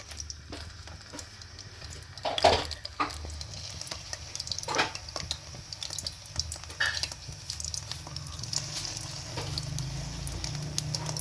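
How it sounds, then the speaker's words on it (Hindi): Chicken seekh kebabs go one by one into a hot pan, giving a steady close sizzle and frying crackle with a few sharper bursts as each piece lands. "ये देखें, हम एक एक करके कबाब उसमें डालते जाएंगे।"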